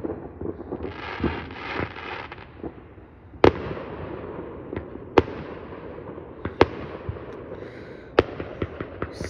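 Fourth of July fireworks whistle and crackle, then several sharp bangs go off at irregular intervals, some close and loud, others fainter in the distance.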